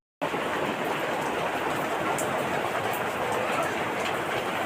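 Rain falling at a home in India, starting abruptly as a dense, even hiss of drops that holds steady and fairly loud throughout.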